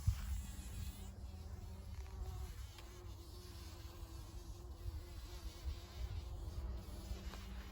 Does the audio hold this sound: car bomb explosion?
no